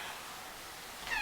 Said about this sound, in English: The one who's been meowing through this is Fredo.